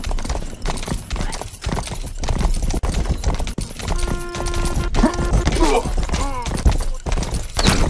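Horse hooves clip-clop steadily in the medieval open-world video game Rustler, a rhythmic trot layered with game effects and background music, with a brief neigh-like sound partway through.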